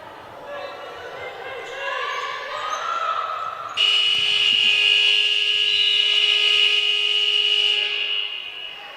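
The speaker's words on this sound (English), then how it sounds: "So there is the buzzer then for full time." A long, loud electronic full-time buzzer blares steadily for several seconds at a women's futsal match, cutting in over crowd noise and indoor court sounds.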